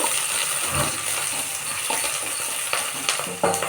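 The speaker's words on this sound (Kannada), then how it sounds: "ಅದಕ್ಕೆ ಕಟ್ ಮಾಡ್ಕೊಂಡು ಇಟ್ಟುಕೊಂಡಿರೋಂಥ ಒಂದು ಈರುಳ್ಳಿನ ಹಾಕಿ ನಾನು ಫ್ರೈ ಮಾಡ್ತಾ ಇದ್ದೀನಿ" Chopped onion fries lightly in oil for a mutton curry masala, giving a steady close sizzle with occasional spoon scrapes and small clinks against the pan.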